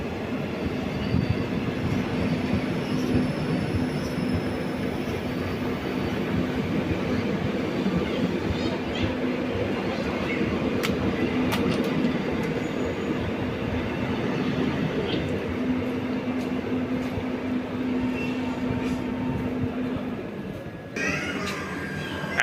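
Shivamogga weekly express train rolling at Arsikere junction, a steady rumbling clatter of wheels on track with a faint sustained squeal and occasional clanks, continuous and fairly loud before easing near the end.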